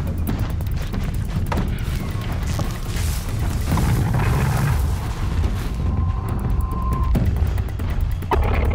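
Heavy rumbling booms and mechanical clatter from a Horizon Zero Dawn battle, a dense, loud, continuous wash of game explosion noise with a brief higher tone near the end.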